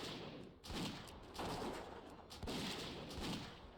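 Rifle fire from the Tinker unit in a Warcraft game, several heavy booming shots in a loose rhythm, each followed by a rumbling decay, loud and close with no talking.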